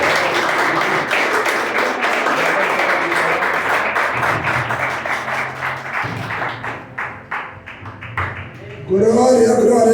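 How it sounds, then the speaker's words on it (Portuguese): A church congregation claps in sustained applause during a deliverance service. Dense, loud clapping runs for about eight seconds, thins out, and then a voice starts speaking over it near the end. "E uma salva de palmas do Senhor Jesus."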